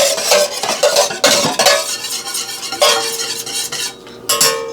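A chicken leg marinade with vinegar being mixed vigorously in a bowl, giving loud, close, continuous scraping and sloshing strokes with clinks of a utensil against the dish.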